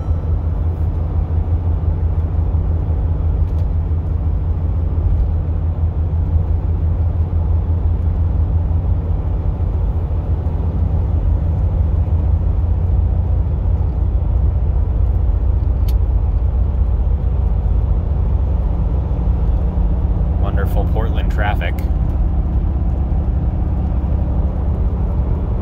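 A 2017 Mercedes-Benz G 63 AMG cruises steadily in sixth gear, a constant low engine and road rumble filling the cabin with no speech and only a brief faint rattle-like blip near the end.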